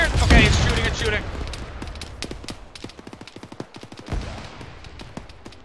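Rapid bursts of gunfire from the combat video game ArmA 3, with dense shots early and then a steady string of sharp cracks and echoing reports, loud and close, with voices talking over part of it.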